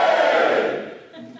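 A crowd erupting in wild cheering and shouting, loud at first and then fading quickly over about a second.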